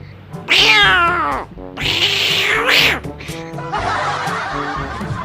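A person imitates a cat, producing drawn-out, wavering meows in quick succession, loud and close, ending in a breathy, raspy hiss-like sound.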